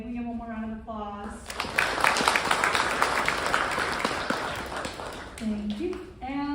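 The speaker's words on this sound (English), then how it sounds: "Can we give one more round of applause?" Audience applause fills a school civics day event, a dense burst of clapping that swells after a voice speaks and fades as talking resumes at the end.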